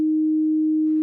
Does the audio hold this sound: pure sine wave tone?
yes